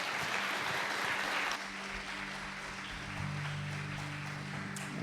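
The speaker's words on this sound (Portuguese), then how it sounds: "Um aplauso bem forte ao Senhor" A church congregation applauding loudly at a Sunday service, clapping sustained throughout, with a low musical hum joining partway.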